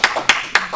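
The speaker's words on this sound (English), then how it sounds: "I think we should applaud him for that anyway" A few sharp hand claps ring out from a small astronomy group audience, roughly three or four distinct slaps spaced evenly in quick succession, close and crisp.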